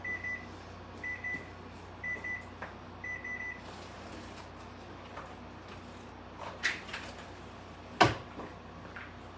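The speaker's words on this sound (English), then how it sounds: "My buzzer's going off, so give me just a second." A kitchen timer goes off while chocolate brownie cookies with marshmallows bake, giving four evenly spaced, moderately loud beeps in a quiet room, followed by a few faint clatters and a sharp click.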